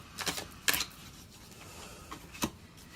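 Tarot cards being shuffled by hand, a few short, crisp riffling bursts separated by quiet gaps, close and soft.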